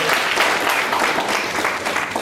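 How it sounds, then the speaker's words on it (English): Loud, close audience applause at a study circle meeting: a thick, even wash of many hands clapping that continues steadily without any speech. "let's have a huge round of applause"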